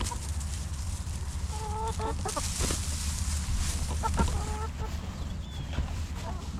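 Farm chickens around fresh straw cluck in short repeated bursts, several birds close by over a steady low background hum, with a few louder squawks.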